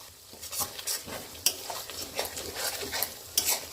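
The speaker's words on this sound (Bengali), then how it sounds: "একটু জল দিয়ে আমি ভালো করে মশলাটাকে কষে নেব।" Mutton curry masala with chili powder, coriander and cumin is stirred in a frying pan: repeated scraping strokes of a spoon over a steady, close sizzle, with no voices.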